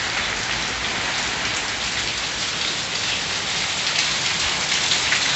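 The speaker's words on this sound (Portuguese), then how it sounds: "a primeira chuva de janeiro." Heavy rain pours steadily in the sertão of Pernambuco, Brazil, in January, a dense, continuous hiss of drops striking surfaces close by, loud and unbroken with no voices.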